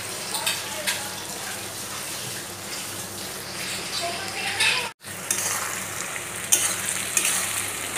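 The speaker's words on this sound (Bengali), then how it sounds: "আরও কিছুক্ষণ অনবরত নেড়ে চেড়ে যেতে হবে" Onions and tomatoes for mutton curry fry over full heat while being stirred, giving a steady, close, dense sizzle with scraping, broken by a brief silent gap midway.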